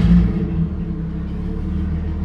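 A 1999 Nissan Patrol Safari with a rebuilt classic distributor engine and no muffler runs after starting, a loud, deep, steady rumbling idle with a slight early surge, close up.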